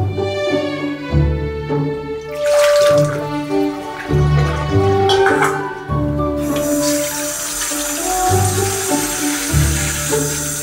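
Running tap water pours steadily into a Labrador Retriever's water bowl, a continuous splashing rush that shifts in tone as the level rises, loud and close.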